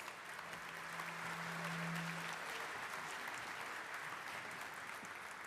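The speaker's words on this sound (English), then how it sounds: "Let's give them another round of applause" Sustained applause from an audience fills a hall for a university choir, dense and even throughout without a break, with a faint tone briefly under it.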